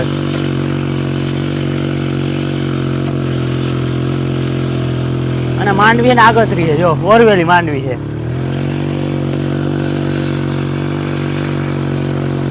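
A Suzuki-engined Sanedo mini tractor runs in a groundnut field with a steady, droning hum throughout, while someone talks briefly over it midway.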